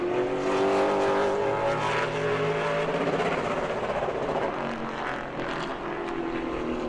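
A Pro Late Model race car on a qualifying lap at New Smyrna drones steadily at high revs, its engine note holding a continuous buzzing tone that swells and shifts slightly as it comes off a turn.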